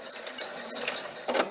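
A sewing machine stitches fabric in quick rattling bursts, close and fairly soft, with short pauses as the material is turned, and no voices over it.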